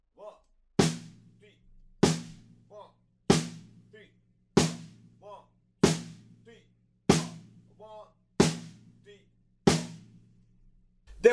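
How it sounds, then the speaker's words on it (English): Snare drum hits play a hand-clap part on beats 2 and 4 across four bars, nine sharp, evenly spaced cracks ringing out alone with brief decays. "I'm going to play them on the snare drum and we need 4 bars,"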